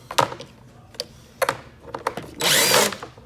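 A power drill pulls screws from the airbox of a Ski-Doo 850 Turbo snowmobile: short, close whirring bursts and clicks, ending in a longer, louder spin.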